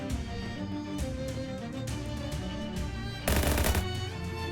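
Gunfire from the video game Shadows Over Loathing: a sharp, loud burst of shots near the end, over steady background game music.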